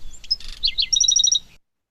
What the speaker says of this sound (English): So that is a recording of a bird.